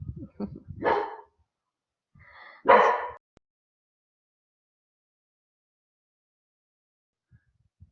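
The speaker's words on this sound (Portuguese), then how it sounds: "Os cachorros falaram aqui." Two short, sharp dog barks, close by and a second or two apart, followed by silence.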